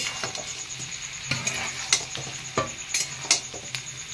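Chicken pakoras stir-fried in a pan with fried onion and capsicum for chilli chicken. A hissing sizzle runs throughout, with intermittent scrapes and taps of a spatula.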